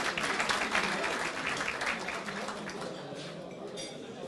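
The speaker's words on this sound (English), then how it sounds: "big round of applause for the Honourable Mark Curray" Audience at a Syrian-Australian businessmen's council event in Sydney breaks into applause, a full burst of clapping that is loudest at first and gradually thins and fades toward the end.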